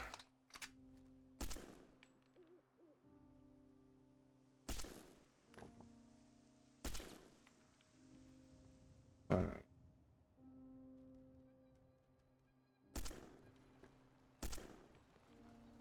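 Gunshots in Fallout at the Red Rocket Truck Stop, sharp separate reports spaced irregularly across the stretch, some single and some in quick pairs, fairly close against a quiet background with a low hum.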